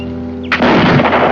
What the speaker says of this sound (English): Oh, he can shoot.